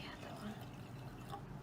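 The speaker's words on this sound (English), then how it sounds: "I have 2 glasses of water. I'm going to pour it." Water is poured from a glass into a jar of sand in a classroom science experiment, a faint, soft trickle under quiet room noise.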